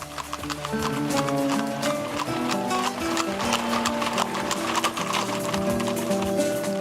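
A troop of horses walking across the Planalto Serrano highland after leaving Lages, Santa Catarina, their hooves clip-clopping in a steady, dense rhythm with loud, continuous hoofbeats throughout.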